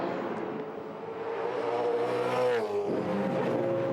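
A V8 Supercar at Bathurst brakes hard uphill and drops to third gear for turn 2, its loud engine note falling and then blipping on the downshifts, with a steady close-up roar throughout.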